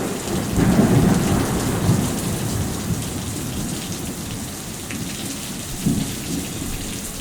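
Steady rain pours at the rain-soaked Outlaw Nationals Car Show in Jefferson, Texas, a loud continuous wash with deep rumbles of thunder rolling underneath and no voices.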